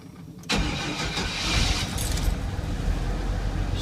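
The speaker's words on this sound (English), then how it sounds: "Start it up" A Chevy 4.3 engine cranks and fires at about half a second, then settles into a loud, steady running rumble close by, with no talk.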